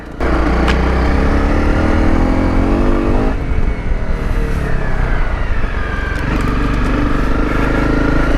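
A Honda CRF250 Rally motorcycle ridden off road through mud and puddles, its single-cylinder engine droning loud and close in a low gear, with slight shifts in pitch as the throttle eases and picks up again.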